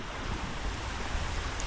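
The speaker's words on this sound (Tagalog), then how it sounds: "lumaki po ang tubig. Kaya naman parang dagat na" Rising floodwater rushes like the sea, a continuous broadband roar mixed with wind buffeting the microphone. It stays steady and close throughout, with no voices.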